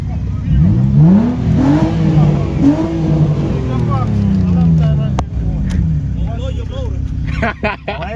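A muffler-delete G35 revs hard at a car meet, its loud engine sweeping up and down in pitch, close by. Excited voices talk over it, and a few sharp pops and bursts come near the end.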